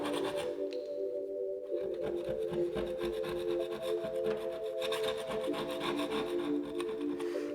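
Scraping and tearing material off a TV cabinet being redone with a white stone imitation finish: steady rough rasping and rubbing strokes, close and continuous, with no voices.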